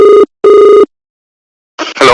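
Telephone ringback tone on an outgoing call, two loud even rings separated by a short silence, then a burst of noise as the line connects.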